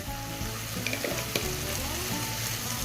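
Chili powder, turmeric and chicken masala sauté in a pan for a spicy chicken curry, a continuous close sizzle with light stirring scrapes.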